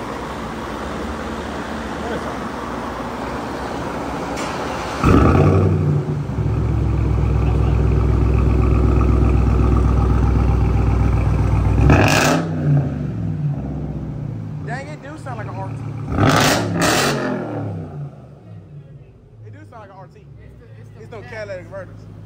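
A 2023 Dodge Hellcat with an MBRP straight-pipe race exhaust fires up with a sharp bark and settles into a loud, heavy rumbling idle, then gives a few short blips before cutting out, with people talking nearby.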